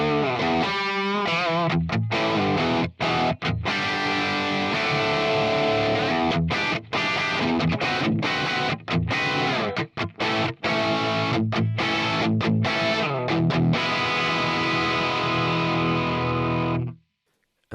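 Heavily distorted electric guitar through a hand-wired Marshall cabinet loaded with G12H30 speakers, loud chugging metal riffs with short palm-muted stops and sustained chords, ending abruptly.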